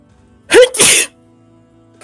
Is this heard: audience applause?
no